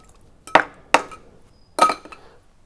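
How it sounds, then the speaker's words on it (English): Ice cubes dropped into drinking glasses for a mojito, three sharp separate clinks and clatters with short pauses between them, close and fairly loud with no talking. "Fill them up to the top with ice cubes."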